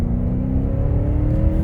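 A 2007 Cadillac DTS engine accelerates at half throttle, a steady, loud, low rumble with a rising whir heard from inside the car, with no talking.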